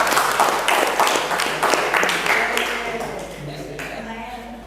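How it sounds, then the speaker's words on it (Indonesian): Classroom of students clapping for a classmate, a dense burst of hand claps that gradually fades and thins out over a few seconds, with some voices mixed in. "tepuk tangan untuk Miftah."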